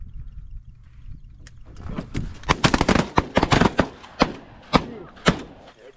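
Shotgun blasts during a Pennsylvania pigeon hunt, a quiet start followed by a rapid volley of loud, sharp reports and then several spaced single shots, close and outdoors.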